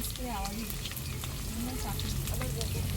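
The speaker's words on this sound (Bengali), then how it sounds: "যে কড়াইয়ে আমি আলুটা ভাজছি" Potatoes frying in an iron wok over a wood-fired clay stove, a dense continuous sizzle with occasional stirring scrapes, close up, while someone talks over it.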